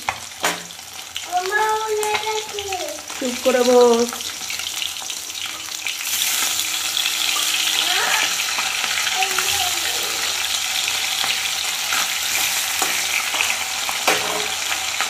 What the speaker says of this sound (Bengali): তো এখানে মাছ ভাজা বসিয়েছি।